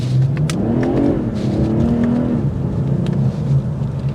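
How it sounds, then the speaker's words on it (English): A 2024 BMW 840i Gran Coupe engine revs up close, the pitch rising and falling through a couple of accelerations with a steady throaty drone. "it's ready to eat up the asphalt if you want to just mash on the gas"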